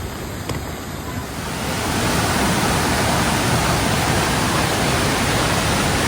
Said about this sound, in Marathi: तर आता आपण धबधब्याजवळ पोचलो आहोत अर्थातच धबधबा जवळच आहे